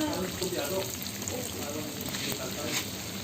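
Ham and cheese donuts frying in hot oil, with a steady, close crackling sizzle and bubbling throughout, with no clear voice over it.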